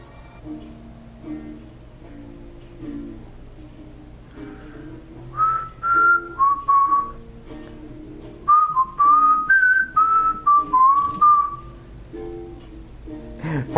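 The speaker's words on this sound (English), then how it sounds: "Pardon me for whistling." A person whistles a short wandering tune in two melodic phrases, near and moderately loud, over low background game sounds and a faint hum.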